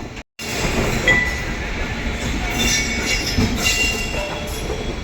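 A Prayagraj special train (04124, Prayagraj to Delhi via Chitrakoot) runs steadily with a loud, continuous rolling rumble, faint wheel squeals and light metallic clinks, after a brief dropout at the start.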